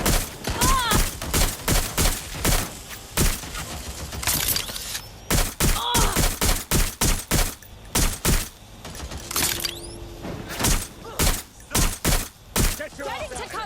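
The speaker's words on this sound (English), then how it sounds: "Providing suppressive fire. Watch out! Shots fired!" Rapid bursts of gunfire in the video game Watch Dogs: Legion, loud and close. Sharp volleys repeat in uneven clusters across the whole stretch, with voices shouting between the shots.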